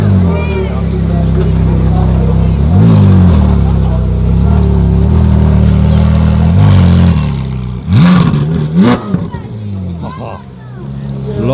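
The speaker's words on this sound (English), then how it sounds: "Lovely Ferrari V8." Ferrari 458 Speciale Aperta V8 revving loudly at a large Ferrari gathering in Aarberg, a sustained close engine roar with rising and falling pitch swells, backed by crowd babble and voices.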